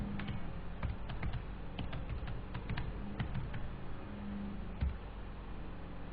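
Rapid, uneven keystrokes tapped on a computer keyboard, close and fairly quiet, with short bursts and pauses over a steady low background hum.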